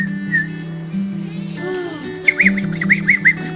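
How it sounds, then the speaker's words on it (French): A bird in springtime sings in a children's show about the seasons: a quick run of bright, repeated chirps comes in partway through over a low, sustained musical hum. "Écoutez. C'est l'oiseau."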